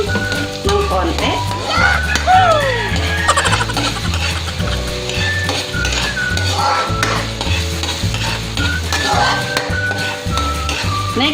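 Lots of garlic sautéing in a pan for beef salpicao with mushroom, a steady sizzle with repeated stirring scrapes and occasional utensil clinks, close and loud over continuous background music.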